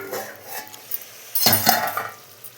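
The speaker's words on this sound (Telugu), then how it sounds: "1 నిమిషం పాటు మూత పెట్టుకోండి" A lid clanks onto a pot of mutton curry: a short metallic scrape and clatter midway, with a few light utensil clinks before it and a faint simmer underneath.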